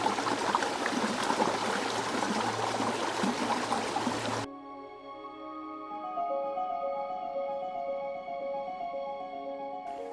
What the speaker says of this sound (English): I just love hearing the sound of the babbling brook out here.